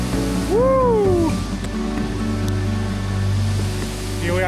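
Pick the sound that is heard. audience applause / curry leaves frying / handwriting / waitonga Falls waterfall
waitonga Falls waterfall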